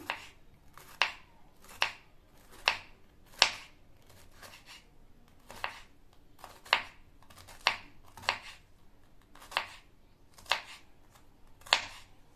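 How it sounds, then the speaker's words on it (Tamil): A knife slices bitter gourd into thin rounds on a board, each cut a crisp, close tap, about fourteen in an even rhythm of roughly one per second, with quiet pauses between. "இதை நம்ம மெல்லிசான ஸ்லைசஸாக கட் பண்ணணும்."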